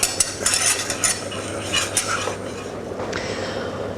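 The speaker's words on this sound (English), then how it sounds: "kept on stirring, stir all the time until the sauce thickens" A spoon stirs milk into a butter and flour sauce for beef lasagne, making steady scraping and swishing sounds against the pan, with soft clinks in the first seconds. A constant low hum runs underneath.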